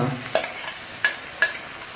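Paste frying in coconut oil with a spatula scraping the pan three times, the sizzle steady and close.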